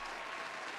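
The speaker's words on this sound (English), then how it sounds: "let's get some applause." Dense applause from a studio audience at a talk show, steady and loud throughout with no gaps.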